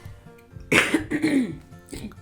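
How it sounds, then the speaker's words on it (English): A single harsh cough bursts out from a person recovering from flu, followed by a rough throaty rattle and a second smaller cough, close and fairly loud. "Allow me to cough"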